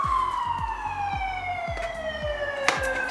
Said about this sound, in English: let that car siren go by me